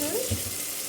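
Flattened rice (poha) tipped into a frying pan over an onion, tomato and chili tempering and stirred; a brief, soft sizzle with a quick scrape of stirring, low and close.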